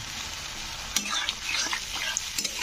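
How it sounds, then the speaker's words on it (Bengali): Spice paste for a fish curry (kalibaus macher tel jhol) sizzles in oil in a frying pan while a utensil stirs it, giving steady frying hiss with scattered light scraping clicks, close and fairly quiet. "স্বাদ অনুযায়ী লবণ দিয়ে মশলাটাকে একটু আবার নাড়াচাড়া করে নেব।"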